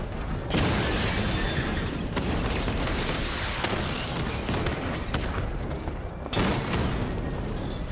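Two heavy booming gunshots in Batman: Arkham Knight, one near the start and one near the end, rise above a dense, constant roar of game noise.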